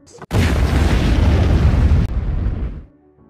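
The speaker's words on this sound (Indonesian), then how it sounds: "terjadi ledakan yang begitu besar." A sudden, very loud landmine blast erupts after a brief quiet moment, roaring and rumbling for a couple of seconds before fading away.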